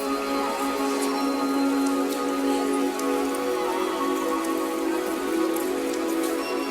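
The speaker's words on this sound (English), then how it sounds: "this ambient, kind of like airy synth noise" A sustained, airy ambient synth pad layered into an instrumental beat, a steady soft wash of hissy texture with faint crackle running evenly throughout, fairly loud and with no voices.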